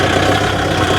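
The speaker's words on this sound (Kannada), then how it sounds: "ಟ್ಯಾಕ್ಟ್ರಿ ಸೌಂಡ್ ಮಾತ್ರ ಖರಾಬ್ ಆಗೈತೆ" A Kubota 55HP 4WD tractor engine runs steadily at idle, a continuous loud diesel rumble with a faint knocking texture, close by and without talk.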